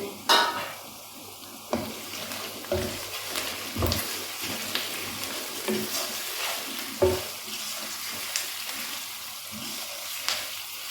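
Chicken karahi frying and sizzling in a pot as ground cumin, salt and black pepper are stirred in, with a steady sizzle under repeated scraping and clanking of a spoon against the pan, no talking.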